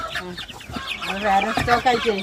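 A hen with grey-speckled plumage clucks repeatedly in a rural backyard flock, the close, rhythmic clucks running continuously with faint harmonic cackles rising toward the end.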